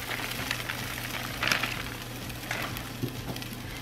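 Fully cooked ground beef sizzling in sesame oil in an Instant Pot, a soft steady frying hiss with a few faint clicks and small pops, no voices.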